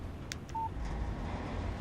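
In the video game Alan Wake Remastered, a phone gives a single short, clean electronic beep for an incoming text message, followed by a couple of faint clicks over a low, steady background hum.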